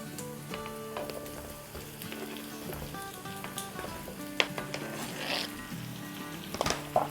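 Turnips go into a pan of fried onions in hot oil, setting off a steady, faint sizzle with soft crackles and a few louder spatters and pops toward the end. No one speaks.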